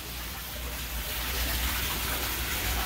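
Water rushes steadily through the plumbing of an aquaponics system with fish tanks, a continuous close hiss and gurgle that holds at an even level without pause.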